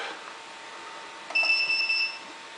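A Sun autoclave sterilizer with a door fault sounds a piercing electronic alarm beep, a steady high tone lasting under a second against a faint background hum, with no one talking.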